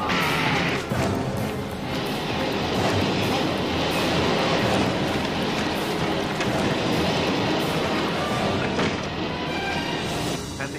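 A train rumbles past, with loud, continuous roaring and rattling throughout and no break in the noise.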